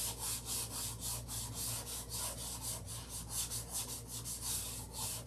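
Rhythmic back-and-forth rubbing of 600 grit sandpaper, with steady strokes at a regular pace, close and moderately loud, with no talking.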